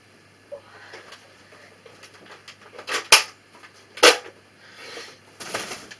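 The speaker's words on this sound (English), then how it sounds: "using the gun that I finally got working, the Nerf Vortex Nitron" A Nerf Vortex Nitron toy blaster fires automatically, giving a few sharp, separate whooshing disc shots spaced about a second apart, with faint clatter in between and no talking.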